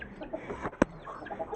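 Chickens and a rooster at feeding time, with soft clucks and one sharp short call standing out near the middle, close by, with faint background movement.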